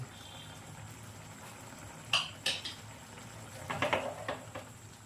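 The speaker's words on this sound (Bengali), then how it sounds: "এবার ঢাকাটা খুলে দিচ্ছি" A lid is lifted off a pot of bilati amra (hog plum) chutney on a gas stove after a short standing time, giving a couple of sharp metallic clinks followed by a later cluster of lighter rattles and taps at close range.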